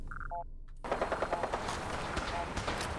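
Rapid automatic gunfire crackles in a Fallout 4 firefight against super mutants, beginning after a few short electronic tones and continuing as dense, loud, sustained bursts.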